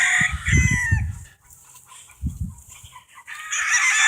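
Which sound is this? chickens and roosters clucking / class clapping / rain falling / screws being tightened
chickens and roosters clucking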